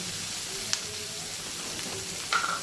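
Onion, tomato and ginger frying in a pan for a spicy Maharashtrian kolambi (prawn) masala, giving a steady soft sizzle with a couple of faint clinks, with no talk.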